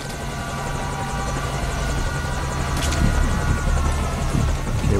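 A helicopter in Metal Gear Solid V: Ground Zeroes on PS4 thuds steadily and loudly with a dense rotor chop and whining turbine, building slightly in strength throughout.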